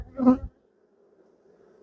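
A single bee buzzes loudly and briefly up close near a hive frame, a harsh droning burst lasting under half a second, followed by a faint lingering hum.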